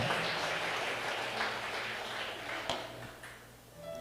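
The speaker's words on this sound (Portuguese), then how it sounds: "Aqui não é proibido aplaudir, não." A church congregation applauding, a steady wash of clapping that runs throughout at moderate level and thins slightly toward the end.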